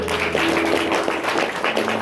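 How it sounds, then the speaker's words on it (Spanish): A church congregation applauds in a steady, dense wash of clapping, close and fairly loud, with a faint sustained musical tone underneath. "¿Cuánto le dan un aplauso al Señor por eso?"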